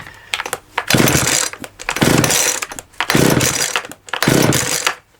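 A small two-stroke garden machine with a lot of compression is pull-started again and again, each tug giving a loud, close, ratcheting burst of recoil-cord and engine cranking, about four pulls separated by brief pauses, without catching.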